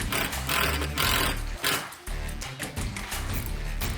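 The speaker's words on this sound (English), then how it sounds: "The new impact wrench, bought because we got jealous of Nico's last time, made things nice and easy, and also makes the right kind of noises." An impact wrench drives bolts during reassembly of a Mazda Miata, giving loud buzzing rattles in bursts of about half a second to a second, separated by brief pauses.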